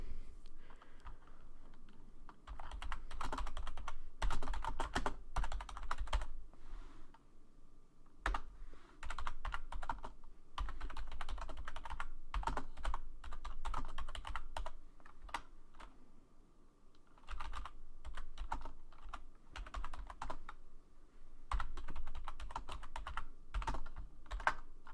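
Typing on a computer keyboard, bursts of quick key clicks with short pauses between them, close and fairly quiet, no voices.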